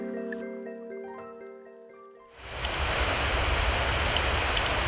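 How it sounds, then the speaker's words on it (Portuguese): A waterfall on the São Francisco river bursts in after soft music fades, becoming a loud, dense, continuous rush of falling water that fills the rest of the stretch. "dentro em pouco começamos a ouvir o barulho da cachoeira"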